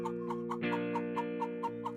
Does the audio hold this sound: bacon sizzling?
no